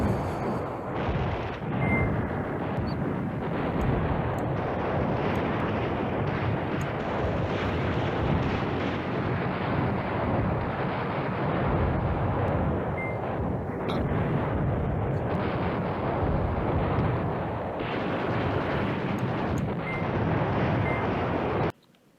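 Bombing in the war strategy game Command Ops 2: Highway to the Reich comes through as a continuous loud roar of rumbling explosions and artillery-like blasts, dense and unbroken before cutting off abruptly at the end.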